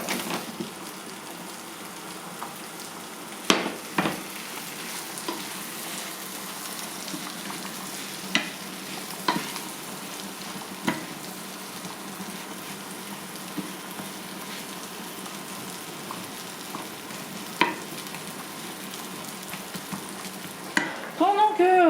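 Courgettes cooking in butter in a frying pan give a soft, steady sizzle throughout, broken by occasional clicks and scrapes of stirring, with a few brief sharper knocks near the end.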